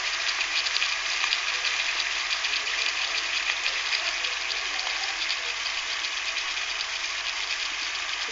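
Cut potatoes frying in hot oil with salt added, a steady, loud, continuous sizzle that holds evenly throughout with no talking.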